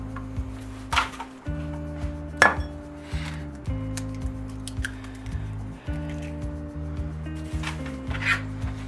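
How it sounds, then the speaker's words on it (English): Two eggs cracked into a bowl, then whisked briefly with a fork, giving scattered light clinks and taps against the bowl over steady background music. "Now we got two more eggs. We're just gonna crack these into a bowl."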